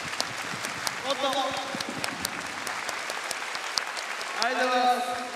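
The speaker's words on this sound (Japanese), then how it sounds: "みんな拍手してください。" Scattered audience applause at a Japanese combat-sport exhibition event sounds thin and somewhat distant, with sparse claps and cheers under a voice addressing the crowd over a microphone.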